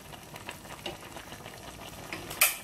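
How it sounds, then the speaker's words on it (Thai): Jackfruit curry stirred in a pot, a soft continuous scraping and bubbling simmer with a sharper clatter near the end, no talk. "คนค่ะ"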